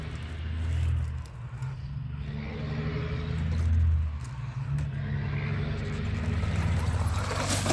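Radio-controlled XJ Jeep Cherokee rock crawler with a custom interior grinding over rocks, a low motor rumble and whir that swells, dips and picks up again, with no talking.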